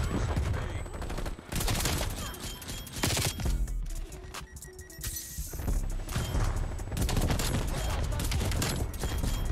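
A Streetsweeper shotgun fires in a video game in loud, rapid, repeated blasts that keep going almost without a break, with a brief lull in the middle. Other game effects blend into the gunfire, and a voice may be faintly present.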